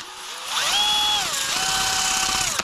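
Power tool sanding a welded steel trailer jack drill adapter with 220 grit, a close, loud whine whose pitch rises and dips as the load changes, running steadily for a couple of seconds.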